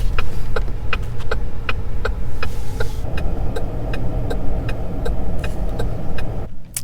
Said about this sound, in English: that sounds like the old turn signal click